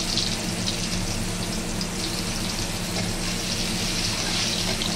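Potato pieces frying in hot oil seasoned with cumin seeds and two bay leaves, a steady loud sizzle that runs unbroken throughout with no talking.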